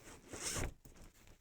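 A single quick zipper pull runs along a fabric zip-up storage bag container, close and quiet, followed by faint rustling.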